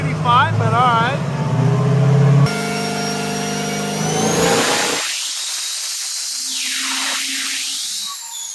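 A big diesel truck on a dyno revs hard, its engine roaring loud and close while people talk over the start, then the sound shifts into a sustained high mechanical whine that rises and falls.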